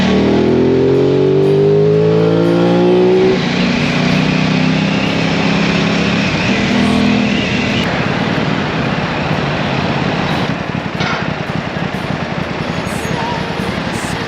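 An Aprilia Tuono 660 motorcycle engine revs loudly and close by, its pitch sweeping up through several quick throttle blips before settling into a sustained high, buzzing roar that carries through to the end.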